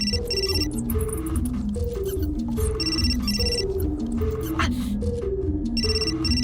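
A phone ringing in the video game Still Life 2, a repeating electronic trill in regular bursts over a low pulsing musical background, with a voice speaking over it.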